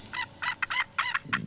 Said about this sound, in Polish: Głos Bielika taki nie jest.